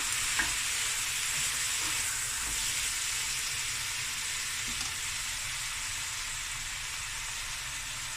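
Seafood rice stir-fries on high heat in a pan, giving a steady, close hiss of sizzling with faint scraping stirs throughout.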